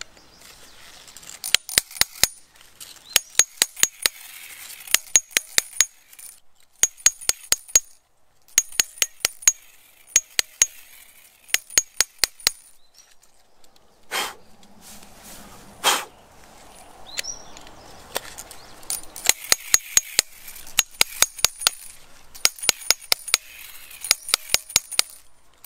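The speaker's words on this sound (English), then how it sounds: "It takes a lot of effort to hand drive a hole" A steel bit is driven by hammer into cave rock to hand drill a bolt hole, with bursts of sharp ringing metallic strikes in quick groups, separated by pauses and a brief scraping shuffle, close and clear without talking.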